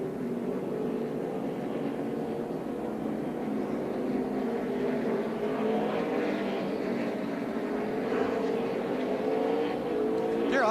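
Race cars roar around Martinsville Speedway, a continuous distant engine drone with rising and falling pitch as cars pass, heard at moderate volume without clear talk.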